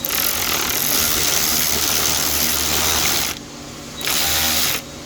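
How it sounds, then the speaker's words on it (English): Electric ratchet with a 12mm socket driving bolts while installing an A/C compressor on a 2016 Hyundai Genesis 3.8L: a steady close whirring buzz for about three seconds, a brief pause, then another short burst. "I am using my electric ratchet. Just going to drive these down"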